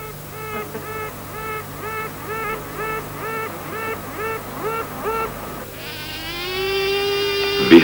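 Unhatched queen bees quack from inside their queen cells: a close, regular series of about a dozen short, pulsed nasal notes, followed by a longer sustained tone near the end.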